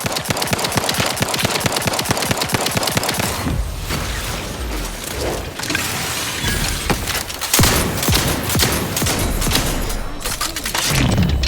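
Rapid automatic gunfire in the video game The Outer Worlds 2, a dense stream of shots for several seconds, followed by loud chaotic blasts, impacts and clattering battle noise that continue to the end.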